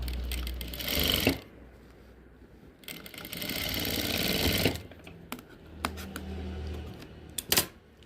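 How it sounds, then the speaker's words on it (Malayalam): A sewing machine stitches the fabric of a cigarette pant in bursts, with loud runs of rapid stitching at the start, in the middle and near the end, separated by quieter pauses. "ഇതുപോലെ ഒന്ന് സ്റ്റിച്ച് ചെയ്തെടുക്കും"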